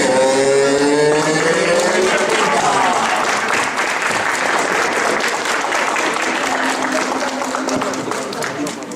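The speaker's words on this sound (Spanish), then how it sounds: "recibimos con una fuerte ovación" Crowd at a Carlos Sainz karting championship round cheering and clapping for the winner of kart number 10 on the podium, dense applause over a sustained musical tone early on, loud and slowly fading toward the end.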